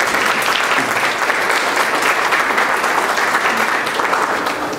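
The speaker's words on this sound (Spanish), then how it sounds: "de nuestro gran amigo Diego Ceballos, a quien también lo recibimos con un caluroso aplauso." Loud, sustained applause from an audience at a storytelling night, steady and dense for several seconds without letting up.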